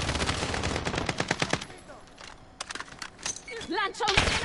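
Rapid bursts of automatic gunfire rattle in a shooter video game, dense at the start and returning in sharp volleys later, while an excited Italian voice talks over the action.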